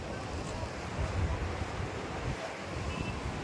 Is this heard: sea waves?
yes